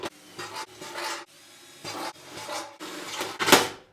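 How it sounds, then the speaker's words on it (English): A drill grinds through sheet metal for a wood stove in several rough bursts, each a few tenths of a second, with short pauses between and a louder final push. "I'm letting the drill be the weight to go through it"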